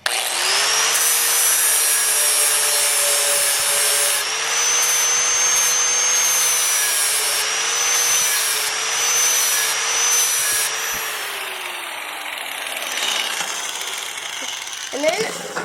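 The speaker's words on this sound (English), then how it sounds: "So you're going to take your angle grinder, and this time the blade spot is going to be facing you." An angle grinder sharpening a forged blade at a blacksmithing setup, a steady high whining motor drone held for about eleven seconds before winding down, with a person talking over it.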